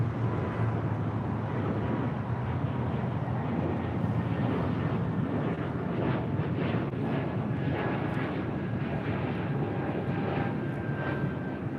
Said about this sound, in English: This is Breeze Airways 535 taking off to Richmond, Virginia on an A220-300.